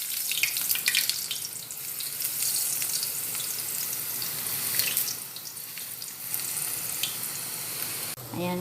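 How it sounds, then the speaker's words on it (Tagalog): Eggplant frying in a pan, a steady loud hiss of sizzling oil running continuously with bright crackles, briefly cut near the end. "ipiprito ko dito sa aking mahiwagang kawali"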